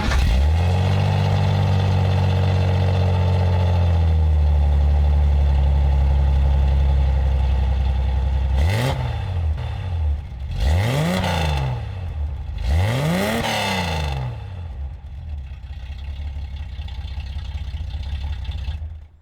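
A Datsun 240Z engine cranks and fires up, settling into a loud, lumpy idle, then three sharp revs rise and fall before it drops back to idling.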